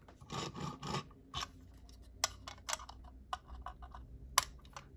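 Scissors cutting open the plastic packaging of a toy car, with a few quick snipping strokes followed by scattered clicks, rustles and small taps, close and fairly quiet.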